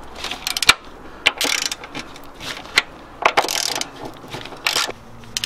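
A hand ratchet loosens the bolts on both shock towers of a 240SX S14/S13 during a coilover install, giving bursts of sharp clicking in quick rapid runs separated by short pauses, close and fairly loud.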